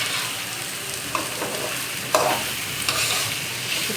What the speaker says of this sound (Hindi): तो देखिए इसको अच्छी तरह से मिक्स करना है।